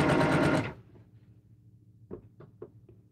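A sewing machine stitches a French door panel quilt wall hanging in a loud, fast burst for under a second, then stops, followed by a few soft knocks nearby.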